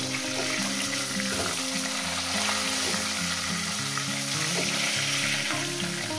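Tilapia fish fry in hot oil after being turned over, giving a loud, even sizzle with busy popping and crackling throughout and no voices.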